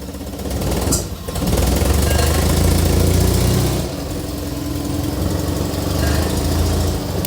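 An Invacar engine, started after months of sitting idle, runs with a loud, rough, close-up mechanical clatter that dips briefly near the start and again midway, then settles into a steady idle.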